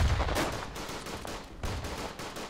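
Grenade blasts and rapid gunfire in the World War I shooter Verdun, loud bursting booms with crackling shots continuing throughout, no talk.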